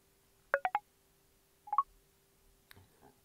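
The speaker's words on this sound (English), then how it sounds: "we hear a little sound that lets us know a little menu has now opened" Short electronic tones from iOS 14 VoiceOver on an iPhone as the back button menu opens: a quick triple chirp, then a rising two-note blip, clear and close in a quiet room, followed by a faint tap.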